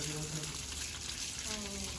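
Water splashes and gushes steadily over a Bullet motorcycle being washed, a continuous broadband rush with voices talking over it.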